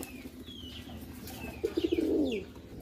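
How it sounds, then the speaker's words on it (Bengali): Pigeons of high-flying breeds kept for sale coo softly in a loft, a short bubbling run of low coos near the end over faint background bird chirps. "আর আমার কাছে কেটিএম মাস্টার এক পেয়ার কবুতর আছে"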